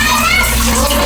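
Water runs steadily from a shower faucet in a tiled bathroom, a loud, close, continuous splashing hiss with no break.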